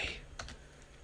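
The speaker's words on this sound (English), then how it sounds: "you get some decent clicky sounds. Although I wouldn't expect too decent, seeing as it's not a proper mechanical clicky keyboard" Keystrokes on a non-mechanical computer keyboard during a ranked Overwatch match as Tracer, a quick cluster of soft clicks up close with faint low background hum, no voices.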